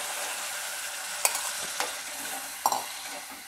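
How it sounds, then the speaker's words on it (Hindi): Misal spices, roasted peanuts and ground paste frying in hot oil in a pan, a steady low sizzle with a few sharp scrapes and stirring clatters from a spoon, fairly close and with no talking. "इन्हें पाँच मिनट अच्छी तरीके से भुनने देंगे"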